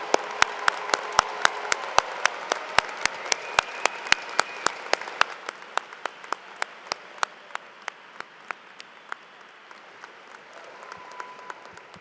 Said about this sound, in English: Would the audience join me in applauding our newest EDDs, PhDs, and DNPs?